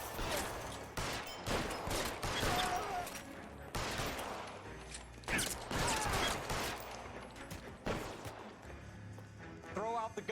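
Gunfire in the 1940s Los Angeles crime game L.A. Noire cracks out in repeated sharp bursts across about ten seconds, loud and close, several shots in quick succession, with a voice talking between them.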